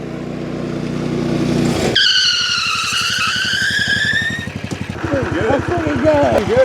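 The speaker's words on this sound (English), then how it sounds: "he is going to brake as hard as he can to see how fast the cart can come to a stop" A cheap go-kart with a drum brake brakes as hard as possible, its small engine droning loudly before a sharp squeal of locking tires scrubbing to a stop, then the engine idling roughly.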